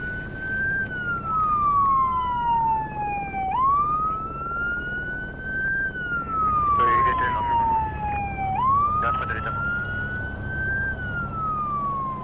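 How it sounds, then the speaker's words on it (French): A deafening fire engine siren wails loudly and steadily nearby, its pitch sweeping up and down in a repeating two-tone cycle, with brief clattering noises in the middle. "les pompiers vont faire résonner cette sirène assourdissante."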